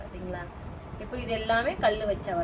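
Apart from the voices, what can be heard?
No distinct noise like a dog, phone or traffic.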